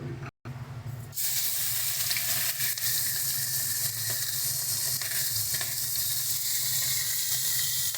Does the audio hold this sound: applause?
no